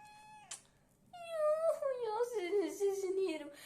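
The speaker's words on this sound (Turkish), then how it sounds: "Yeni aldık halamın kedisi." A young kitten gives a long, rising-and-falling meow after a brief squeak, loud and close in a quiet home, with a faint voice in the background.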